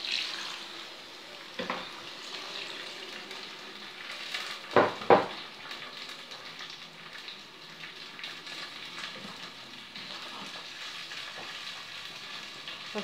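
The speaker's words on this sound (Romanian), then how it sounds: "Lăsăm să fiarbă." Sausages and green beans simmer in water in a pan, producing a faint, steady bubbling sizzle with a couple of brief clinks. No one talks.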